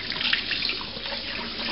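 Cold tap water runs steadily into a sink to rinse basmati rice, a continuous close splashing wash with no pauses or talk.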